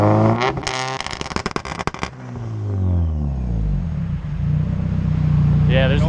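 A turbocharged Honda CR-V engine on two-step launch control, loud rapid popping and crackling bursts at close range, then the engine revs and winds down to idle while people talk nearby.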